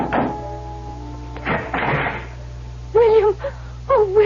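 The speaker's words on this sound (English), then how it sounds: "I knocked on the door of the Adams house" Knocks on the door of a house at dusk, a few dull thuds close by, followed by a voice speaking.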